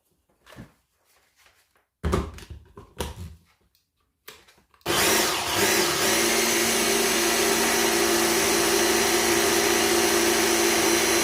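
A kitchen blender blitzes vegetables for homemade stock cubes, starting with a few short stuttering pulses before settling into a loud, continuous high whirring roar that runs to the end.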